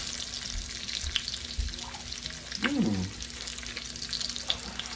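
Bacon frying in a pan, a steady crackling sizzle with scattered pops throughout, plus a brief clink of a utensil midway; no talking.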